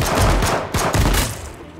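Loud, dense gunfire from the H1Z1 King of the Kill battle royale game, several rapid shots blending into a continuous burst that stays close and heavy throughout.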